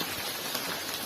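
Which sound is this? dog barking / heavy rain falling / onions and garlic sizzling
heavy rain falling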